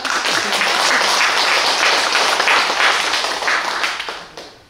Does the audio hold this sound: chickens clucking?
no